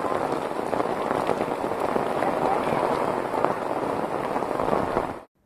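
Heavy rain pours steadily in Virudhunagar, Tamil Nadu, a dense, even hiss of drops hitting the ground that carries on without a break before cutting off abruptly.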